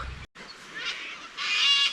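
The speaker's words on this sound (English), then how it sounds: "The birds are having bird wars about whose tree it is." Bare-eyed cockatoos squabble over a tree outdoors at a campsite, giving harsh, grating screeches that rise in a loud burst toward the end and are heard without any talk.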